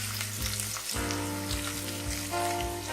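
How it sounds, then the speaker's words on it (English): Ginger and garlic fry in hot oil in a pan for an Indian dhaba-style chana dal tadka, a steady close sizzle with faint stirring taps and no talk. "Roasted ginger and garlic, add cloves, stir it."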